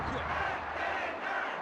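A video game wrestling crowd cheers in WWF Warzone, a dense, steady roar of many voices filling the whole moment at constant loudness.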